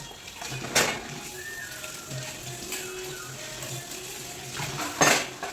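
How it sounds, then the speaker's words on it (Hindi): Steel utensils are scrubbed and washed in a kitchen sink, with clattering and clinking of metal dishes, two louder knocks, and a soft background wash of water and scrubbing, close by and with no talking. "तो यहाँ पर जो है सारे बर्तनों को मैं मांज के धुल लेती हूँ"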